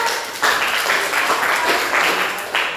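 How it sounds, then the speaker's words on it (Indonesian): Classroom applause after a student reads a poetry analysis in an Indonesian lesson: a few seconds of steady, dense clapping from the class, loud and continuous, with no talk over it. "Iya, tepuk tangan dulu."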